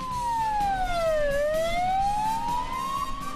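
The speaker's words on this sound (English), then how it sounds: "Can we do a lap with the sirens going?" A police car siren wails loud and close, sweeping down and then back up in pitch as the car laps a police college driving track, with engine and road noise underneath.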